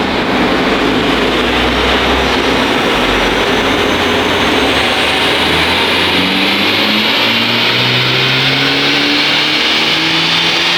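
A stock Honda Civic Type R FL5 engine revs hard through a full dyno pull, a loud sustained roar rising steadily in pitch with a whining tone climbing above it, no voices over it.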